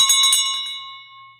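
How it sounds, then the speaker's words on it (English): A single bright notification bell chime rings out clearly and alone, its sharp strike fading into a sustained metallic ring. "Hit the notification bell."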